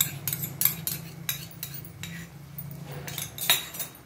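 A spoon clinks and scrapes against a pan while a sauce of soy sauce, red chilli sauce and black pepper is mixed. Irregular metallic taps come close together over a quiet background hum.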